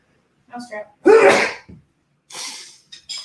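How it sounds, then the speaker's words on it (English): A single sharp, loud sneeze with a short breathy intake before it, followed by a few quieter breathy sounds and rustles. "I'm going to leave it on the graphic while I sneeze."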